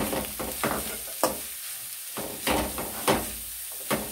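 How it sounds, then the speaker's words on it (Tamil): Carrot pieces being sautéed in oil for a simple carrot poriyal, a steady close frying sizzle broken by several sharp stirring scrapes and clacks spread through the few seconds, with no talking. "கேரட் போட்டு நல்லா வதக்கிட்டேன்."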